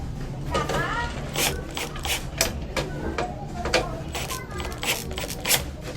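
A driver tightening a black Hardieflex screw with built-in scraper into sheeting, giving repeated clicking, ratcheting bursts with a person talking between them.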